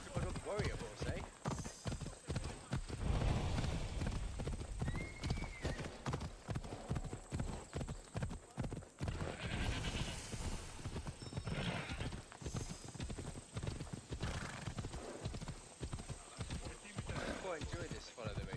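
Horse hooves clip-clop steadily as a warrior horse gallops along in Assassin's Creed Odyssey, rhythmic and close, with a whinny and game voices talking over the hoofbeats.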